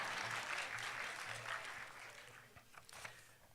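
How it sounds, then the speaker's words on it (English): Audience applause at a Women in Tech 2019 awards ceremony, a continuous patter of many hands clapping from a crowd that slowly thins toward the end. "You are allowed to applaud."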